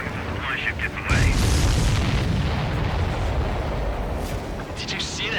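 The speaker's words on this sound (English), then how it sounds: "Did you see that explosion?" A missile strikes a supply ship in the jet combat game Ace Combat 7, setting off a sudden loud explosion that booms and rumbles for several seconds before trailing off, with faint radio-like voices before and after.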